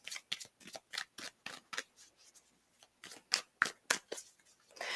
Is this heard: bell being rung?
no